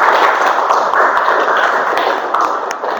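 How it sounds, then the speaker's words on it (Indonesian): Classroom of students applauding a classmate after a presentation, a steady dense patter of many hands clapping close by for about three seconds, easing slightly toward the end. "Ya, tepuk tangan untuk teman kalian."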